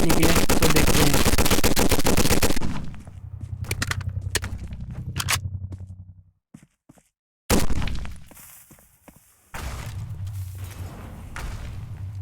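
Gunfire and a grenade blast in a Roblox gun game: a dense loud burst of rapid shots, then scattered sharp bangs and thuds, a brief silence, and another sudden loud hit with fading rumble.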